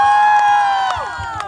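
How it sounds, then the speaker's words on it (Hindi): Guests at a sangeet celebration cheer and whoop loudly over sustained music with singing, a lively crowd roar filling the room for a moment. "जोरदार तालियां एवरीवन"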